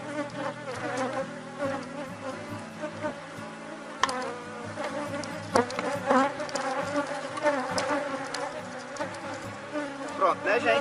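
A honeybee swarm buzzes densely around a hive box during a colony split, a loud, steady drone of many wings, close by, with sharper bursts as bees pass near.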